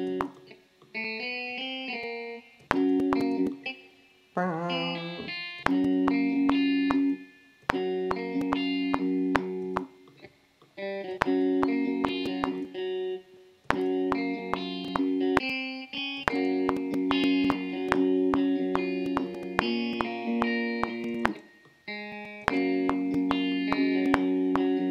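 A plucked guitar VST melody layered over a sad trap beat, with steady percussive hits under repeating bright picked notes, drenched in reverb and looping for the whole stretch without any voice.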